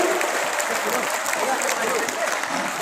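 Applause at a university convocation in Noida thanking Defence Minister Rajnath Singh, many hands clapping in a steady, dense wash at moderate loudness for a short burst.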